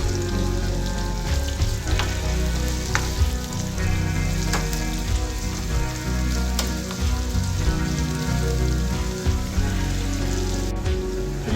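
Onions, mustard seeds, cumin, dried red chillies and curry leaves fry in hot oil for a green chilli masala curry, giving a steady, close, crackling sizzle with scattered sharp pops throughout and no talking.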